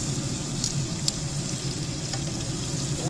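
Beef chuck searing in a hot pot, a steady broadband sizzle with faint crackles throughout, close and moderately loud, no voices.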